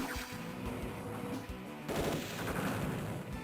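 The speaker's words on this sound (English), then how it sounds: "I guess I can just send the tank in for the kill" A tank attack in Advance Wars Dual Strike, heard as dense, continuous rattling gunfire and impact crashes, with a sharper burst partway through over a busy game soundtrack.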